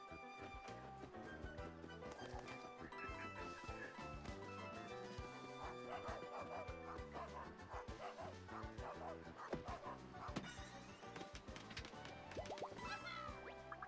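A dog character barks in the video game Paper Mario: The Origami King, short yips and woofs scattered over dense, loud game music and effects that run throughout.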